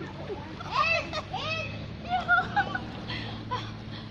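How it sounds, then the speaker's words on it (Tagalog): Children bathing in a cool river splash and play, with bursts of water splatter mixed with kids' chatter and squeals, close by, as a person talks nearby. "mga bata, naliligo sila."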